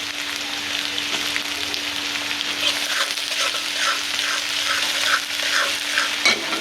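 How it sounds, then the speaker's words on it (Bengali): Spice paste fries in hot oil in a pan with a steady close sizzle, while a utensil scrapes and stirs it in repeated strokes over a low constant hum. "পেস্ট একটু ভাজা ভাজা করি"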